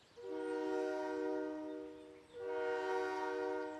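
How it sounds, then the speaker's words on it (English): Toyland Express toy train in a Noddy cartoon, sounding two long, bright whistle blasts, the second following a brief gap, steady and fairly close with no talking. "The train is coming."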